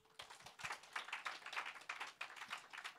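Scattered clapping from a small group at a youth church service, fairly quiet and uneven, with individual claps standing out rather than a full roar.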